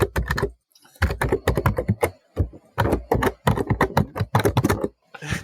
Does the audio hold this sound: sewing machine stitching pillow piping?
no